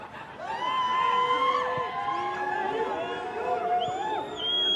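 A small crowd at an Ethiopia versus South Africa World Cup qualifier football match cheers and shouts steadily throughout, with high whistling and whooping tones rising above the broad murmur.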